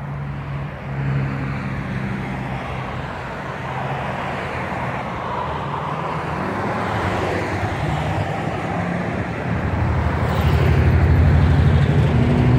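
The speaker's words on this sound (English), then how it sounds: "Traffic on a Saturday afternoon here in" Saturday-afternoon street traffic rolls past in a steady, fairly loud wash of engine and tire noise, with heavier vehicles rumbling low and a louder surge near the end.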